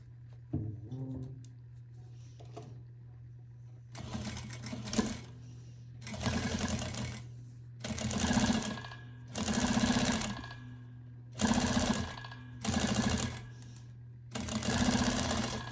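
A sewing machine stitches through quilted fabric for an iPad holder in a series of short bursts, starting and stopping repeatedly with brief pauses between runs, close and fairly loud under a steady low hum.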